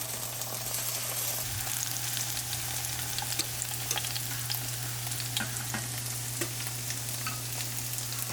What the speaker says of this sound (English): We're going to flip our tofu for the second time.